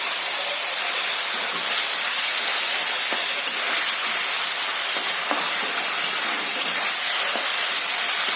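Taro stems frying in a pan with bay leaf, black cumin and green chilli, a loud, steady close-up hiss of hot oil with faint crackles running throughout, no voices.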